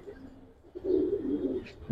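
Giribaz and colouring pigeons in a loft give a soft, low cooing call, one short burst rising from near-quiet background and fading within about a second.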